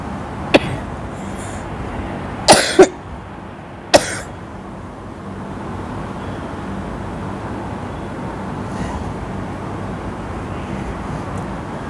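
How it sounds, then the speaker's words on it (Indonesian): A few scattered coughs close to the mic: a short one, then a quick double cough, then another, followed by quiet background hum. "Maaf ya batuk."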